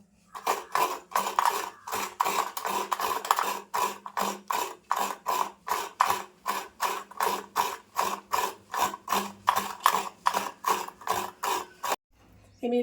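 Fresh coconut grated by hand with a light touch: a long run of quick, regular scraping strokes, about two per second, crisp and close. A brief pause is followed by a small shuffle at the end.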